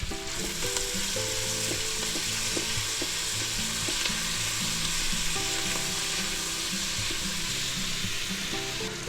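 Minced garlic for a pot roast sizzles loudly in a pot while being stirred, a continuous close frying hiss with scraping stir sounds throughout.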